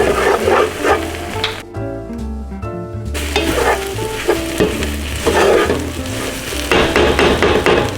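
Flour-coated vegetables are stirred in a hot stew pot, sizzling loudly and continuously, with scraping stirs and a short pause near the middle.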